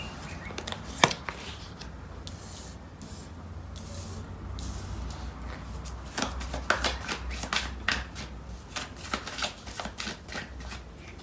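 Tarot cards shuffled by hand in a steady run of close, crisp riffling and flicking sounds, with no talking.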